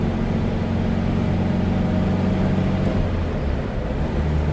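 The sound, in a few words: 1968 MGB Cabriolet engine while shifting through gears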